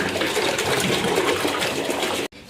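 Water pours steadily into a fish tank while buying a rainbow shark, a continuous close splashing gush that cuts off abruptly near the end before a faint return.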